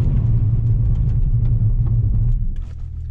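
2021 Mercedes E53 AMG Coupe braking hard from 65 mph on a foggy road, a loud low cabin rumble of tyres and engine holding steady, then easing and fading as the car slows.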